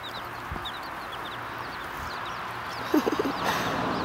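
A hen clucks outdoors with her newly hatched baby chicks, giving soft, low clucks under a steady stream of faint high peeping, with a brief louder cluster of calls near the end.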